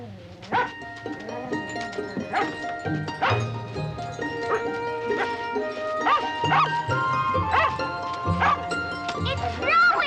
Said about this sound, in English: What's Jack barking about?